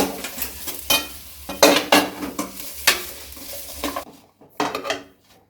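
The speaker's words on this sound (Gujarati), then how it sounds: "ખજૂરને સારી રીતે હલાવતા રહેશું।" Dates being stirred in hot ghee in a pan, with a spoon clanking and scraping against the metal in a quick uneven rhythm, close and loud, over a light sizzle, ending with a few sparser knocks.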